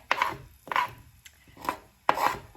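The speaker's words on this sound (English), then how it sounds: "I'm going to slide in my onions" Onions sliding into a hot pan for tomato soup, heard as a few soft scraping, sizzling swishes spread over a couple of seconds, close and fairly quiet, with no talking.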